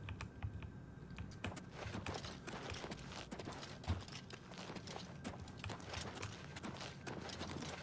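Horse hooves clip-clop at a steady walking rhythm in the video game Oblivion Remastered. The hoofbeats are quiet and evenly spaced and continue throughout with no competing sound.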